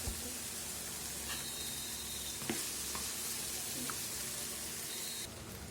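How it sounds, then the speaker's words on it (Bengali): Boiled cauliflower dropped into a hot frying pan while making noodles, sizzling steadily in the oil with a few clinks and stirring knocks, close and continuous with no talk. "তো আমরা এখন এই যে সিদ্ধ করে রাখা ফুলকপিটা দিয়ে দিচ্ছি।"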